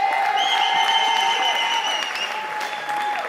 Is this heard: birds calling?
no